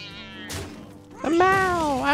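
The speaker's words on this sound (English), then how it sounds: "A meow! I'm a cat!" A cartoonish cat meow from the Hearthstone card game, a single rising and falling mew at close range following a brief thump, loud and clear with no talk over it.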